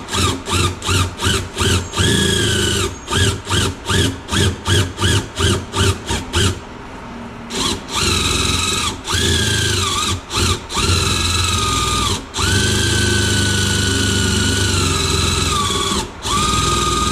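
Power drill boring a small pilot hole for a self-tapping screw on an RC Kraton chassis, in short bursts of whining at first, then longer steady runs with brief breaks.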